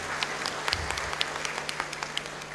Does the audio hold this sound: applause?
yes